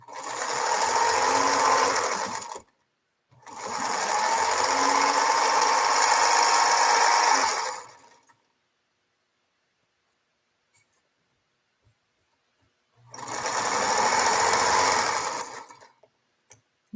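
A small Featherweight sewing machine stitches quilt scraps, whirring steadily and close by in three runs of a few seconds each, with quiet gaps between them.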